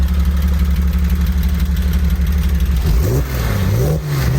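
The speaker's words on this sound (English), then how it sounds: "It makes an awesome sound with that exhaust." A rebuilt 4.0-litre engine in a 2002 Porsche 911 runs loud and close through its exhaust, a steady deep idle rumble that swells into a couple of rising and falling revs near the end.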